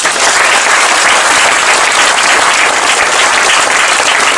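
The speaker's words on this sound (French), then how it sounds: "Vous pouvez l'applaudir." Crowd applause at a political rally in Voves, France, loud continuous clapping filling the whole stretch without a break.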